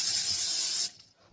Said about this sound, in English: I'm going to put a little Pam in the pan.